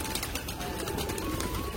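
A big flock of pigeons gathered together, giving a continuous murmur of low cooing with scattered soft flutters over a dense background hum.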